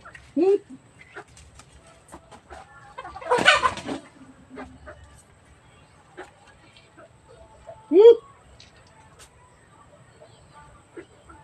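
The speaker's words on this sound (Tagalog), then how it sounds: "Magpapatuka po tayo ng manok" A few short clucks and squawks from chickens being fed, spaced out over quiet background with scattered rustling and a brief burst of noise.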